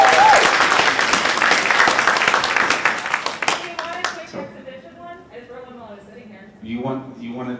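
Audience applause and clapping at a live convention comedy show, a loud full burst of hands that fades after a few seconds into scattered voices and talk.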